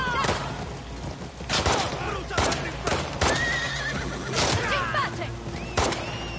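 Horses neighing in the video game The Last of Us Part II, several loud shrill whinnies breaking out amid sharp gunfire bursts and hoofbeats, with a voice speaking intermittently over the chaos.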